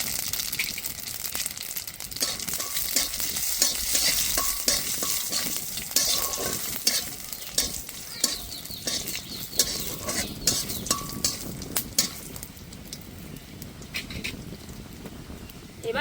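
Three split dried red chillies and radhuni spice frying in a little hot oil, a busy crackling sizzle with frequent sharp pops and the scrape of stirring, fairly close and steady.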